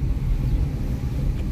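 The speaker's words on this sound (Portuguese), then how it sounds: "Ronco original, difusor com a válvula fechada" Hyundai HB20 1.0 turbo with a stainless steel 304 exhaust diffuser, valve closed, giving a low, muffled, steady drone while driving, fairly loud and close with no talk.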